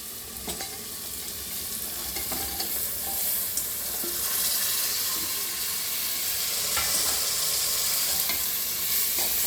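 Potatoes and cauliflower are stirred and fried in a pan, a loud continuous sizzle with close spatula scrapes and knocks recurring irregularly throughout.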